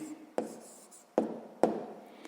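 A math solution is handwritten, with pen strokes scratching softly on paper in a few short bursts and sharp taps between them, close and quiet, with no talking.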